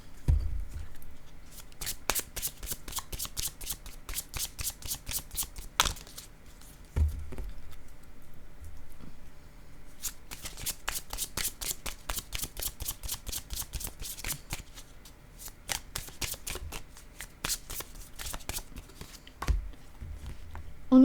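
Tarot cards are shuffled up close in rapid riffling bursts, each run of quick papery flicks lasting a few seconds, separated by brief pauses and soft handling thumps.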